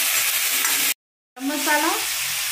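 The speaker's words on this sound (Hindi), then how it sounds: "आलू और इसे भी हमें अच्छी तरह से मिक्स कर लेना है।" Potato and tomato dry curry frying in a pan sizzles loudly and is stirred, the sizzle cutting out briefly to silence midway before returning with scraping stir sounds, no talk.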